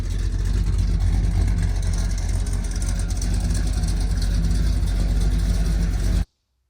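A deep, throaty pickup truck engine with a Lyle's stainless steel exhaust and B52 mufflers rumbles loudly and steadily through its exhaust, then cuts off abruptly at the end.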